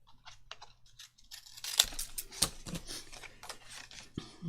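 Scissors snip through craft paper for a challenge project: a few sharp, close clicks and crisp cuts, with light handling rustle between them and no talking.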